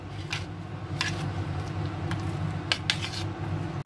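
Ground spices, including cumin powder and black pepper, being mixed in a bowl: a spoon scrapes and clinks lightly against the dish in scattered strokes over a low, steady background hum.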